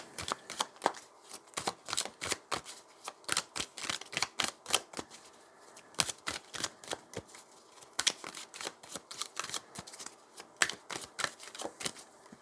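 Tarot cards are shuffled by hand close up, giving rapid, crisp riffling flutters in quick bursts separated by short pauses, with no talking.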